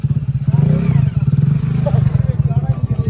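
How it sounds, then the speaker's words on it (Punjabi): A motorcycle pulls up at a langar during the Hola Mohalla festival, its engine chugging in a low steady throb with some clatter, heard close over a few seconds. "ਆਹ ਵਾ ਆਪਣੇ ਵਾਲਾ ਮੋਟਰਸਾਈਕਲ ਪਹੁੰਚ ਗਿਆ ਲੰਗਰ 'ਚ"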